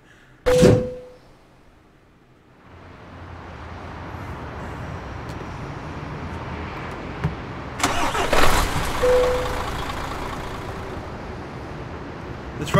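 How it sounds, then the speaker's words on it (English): A truck in Euro Truck Simulator 2 with a sharp thunk at the start, then a steady mid-pitched engine hum that rises and runs on, broken by another loud clunk partway through. "The truck is shutting off."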